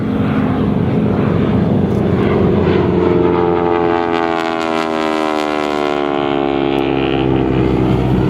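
A North American AT-6 trainer flying at the 2015 Geneseo airshow, its piston engine droning loudly and continuously with a strong harmonic whine that shifts in pitch as the plane passes nearby.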